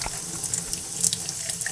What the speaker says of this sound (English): When I started pouring water on this thing, the ink was just flowing out of here like crazy